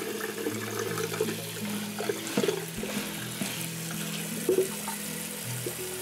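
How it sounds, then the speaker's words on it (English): Cherries are rinsed under a running kitchen tap, a steady close wash of flowing water with small splashes and a low background hum. "I'm just gonna wash those off and then we'll be juicing it."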